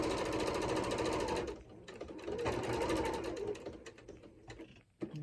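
A sewing machine stitches fabric for a decorative envelope cushion, its rapid mechanical whir pausing briefly twice as the needle stays down and the fabric is pivoted, then running on close by.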